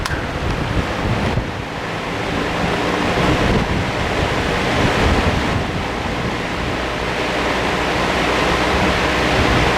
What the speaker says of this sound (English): about the same noise pattern that you have for a box fan or an oscillating fan